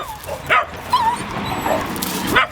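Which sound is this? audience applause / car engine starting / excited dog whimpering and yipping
excited dog whimpering and yipping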